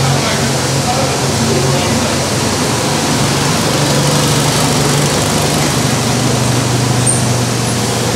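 A Mitsubishi Evo X fitted with a Buschur exhaust holds a steady, loud, full-bodied drone with a low hum throughout, close up and without any talking.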